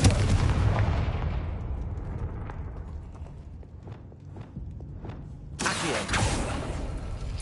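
A Confringo fire spell blast goes off in Hogwarts Legacy with a loud, booming explosion that fades slowly into a ringing tail, followed by a sharp second burst.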